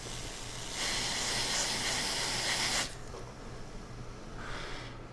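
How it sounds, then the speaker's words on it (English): Freeze spray hisses onto the Wi-Fi chip of an iPhone 6s circuit board in one sustained close blast of about two seconds, then a quieter background and a brief second puff at the end. "Let's freeze spray this sucker and see where on the beautiful Wi-Fi chip"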